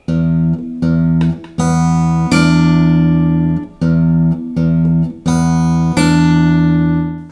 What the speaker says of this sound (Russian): Нам нужно будет сыграть 6-ю струну и в этот же момент ударить по 3-му ладу 2-й струны.